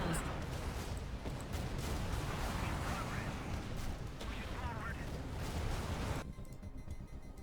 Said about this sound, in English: Effects look pretty good when ship blows up